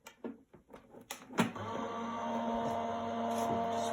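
A Gemini die-cutting machine pulls cardstock sandwiched between clear cutting plates. A few clicks and clunks lead into a steady motor whir with a tonal hum, close by and moderate in volume.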